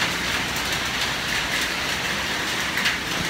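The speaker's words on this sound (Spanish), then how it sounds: "llueve a cántaros ahora" Heavy rain pouring down on a Bangkok street, a dense continuous hiss of downpour spread evenly and fairly loud throughout, with no talking.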